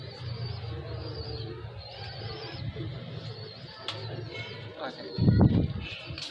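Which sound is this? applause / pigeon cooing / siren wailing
pigeon cooing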